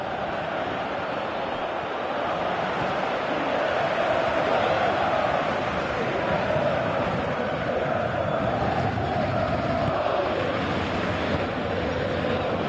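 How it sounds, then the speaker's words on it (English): A stadium crowd in a Pro Evolution Soccer 2018 match on PS4 Pro keeps up a continuous dense roar, loud and unbroken, swelling slightly midway with a broad wash of massed voices. "you could feel and hear how the crowd are reacting to all of this"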